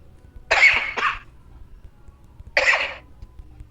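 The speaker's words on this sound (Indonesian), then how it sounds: "Enggak Pak, itu batuk." Two coughs from one person, a quick double cough followed by a single cough a moment later, close and clear over a quiet room.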